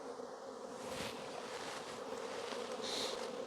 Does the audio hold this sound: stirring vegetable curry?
no